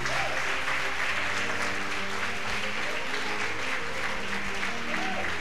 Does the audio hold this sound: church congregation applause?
yes